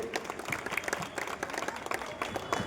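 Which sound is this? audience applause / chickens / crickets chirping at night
audience applause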